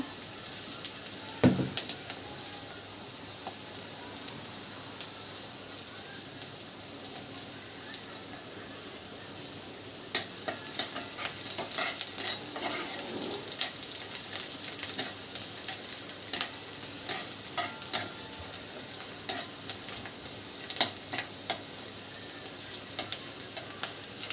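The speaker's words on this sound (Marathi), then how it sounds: "कांदा छान असा परतला आहे" Onion sautéing in a pan gives a soft, steady sizzle, stirred with occasional sharp scrapes and clicks that grow more frequent in the second half, close but fairly quiet.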